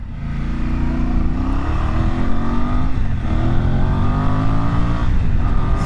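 A Voge DS800X Rally motorcycle engine runs loud and close, its revs rising and falling in a steady throaty drone for several seconds, heard alone with no talking.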